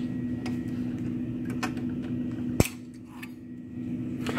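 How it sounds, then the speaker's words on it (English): A single sharp snip of cutters through binding wire during trumpet repair rings out once over a steady workshop hum, with a few faint light clicks around it. "Snip that binding wire."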